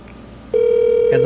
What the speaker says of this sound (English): all I need to do is call my phone number here at the office, or call my cell phone from here at the office with a 10 or 7 digit number